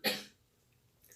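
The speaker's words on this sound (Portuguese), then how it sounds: "essa tosse" A single short, sharp human cough bursts out at the start, fairly close, then fades into near silence.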